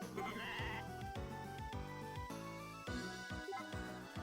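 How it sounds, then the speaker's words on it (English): Sheep in the farming game Story of Seasons: A Wonderful Life bleat over and over in a quick, noisy cluster, some calls overlapping, along with a regular plucked musical beat from the game's background music. "It's noisy out here. There's lots of yelling sheep."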